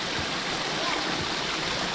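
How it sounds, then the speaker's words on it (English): A mountain waterfall rushes as a steady, dense broadband roar some distance below, continuous and unchanging for the whole stretch with no other sound standing out. "so that waterfall, Emery, was down there a little ways, obviously."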